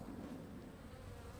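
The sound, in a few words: honey bees buzzing around an open hive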